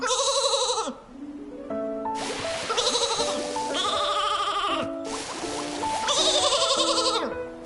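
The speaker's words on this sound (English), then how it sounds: "You may be the cuddliest Flora sheep, but you can't go around causing trouble." Cuddly Flora sheep in the video game Infinity Nikki bleat over and over in loud, wavering calls, several overlapping bursts close up with game music notes running beneath them.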